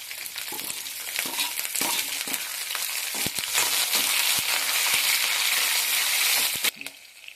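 Green chillies, onions and curry leaves frying in a pan with cumin seeds, giving a steady loud sizzle broken by scraping stirs and clinks before it drops off near the end.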